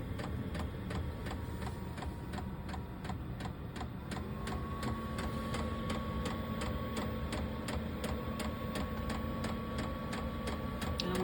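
Diesel heater in a tiny house camper starting up and then running steadily, a rapid regular ticking pump over a continuous fan hum with a tone rising as it gets going, close by.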